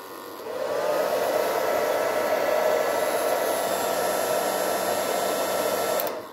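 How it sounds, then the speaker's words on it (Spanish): A hair dryer heating PVC for a patch blows a steady, loud whirring hiss that starts abruptly, holds constant for several seconds, then cuts off near the end. "por eso uso el secador"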